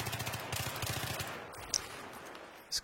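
Bursts of hip-fire gunshots from an online Xbox Live shooter game, a quick rattling volley followed by a couple of sharper isolated shots, fairly close and clear with no talk over them.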